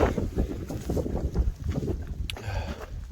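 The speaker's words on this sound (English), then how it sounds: "The wind's not as bad as it was last night when I was trying to get in. It's definitely blowing little bricks." Strong mountain wind on Mount Washington buffets the microphone in heavy, uneven gusts, a loud rumbling roar that swells and dips close up, with no voices.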